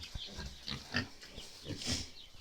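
Pigs in a farmyard pen give soft, scattered grunts and snorts at close range, several short irregular bursts over a quiet background.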